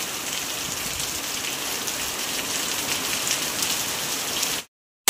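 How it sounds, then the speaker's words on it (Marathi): A torrential monsoon downpour drums hard and steadily on nearby surfaces in a loud, unbroken hiss of dense drops, then stops abruptly just before the end. "मुसळधार पाऊस पडतोय."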